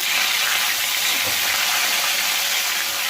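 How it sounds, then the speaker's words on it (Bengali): Cumin seeds and bay leaves spit in hot oil for a tempering, producing a loud, dense, continuous hiss that fills the whole moment without pause. "দেখো বন্ধুরা ফোড়নে আমি জিরে তেজপাতা"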